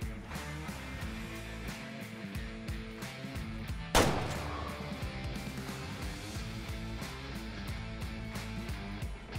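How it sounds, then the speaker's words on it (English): Single rifle shot at a deer in the hunting video game Way of the Hunter, a sharp loud crack midway with a rolling echo decaying over a steady game ambience. "That looked like it was a pretty good heart shot right there."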